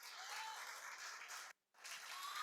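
A church congregation applauds during a Sunday service, a steady wash of clapping that fills the room at a moderate distance, broken by a brief silent gap before resuming.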